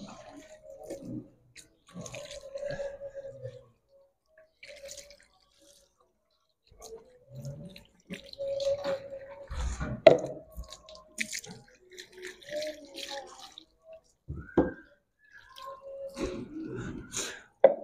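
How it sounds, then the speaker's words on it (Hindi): Water poured over a body during an Islamic funeral washing of the deceased: intermittent splashes and trickles come in short bursts separated by quiet pauses, with soft handling noises in between. "इधर डालो पानी"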